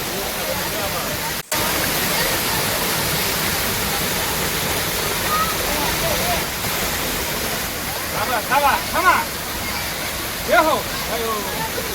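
Stream water at Jatashankar Mahadev in Junagadh rushing in a loud, constant close roar throughout, with faint voices surfacing now and then under the flow.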